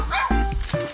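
A dog gives several quick, close, loud barks and yips in about a second, with some whimpering between them.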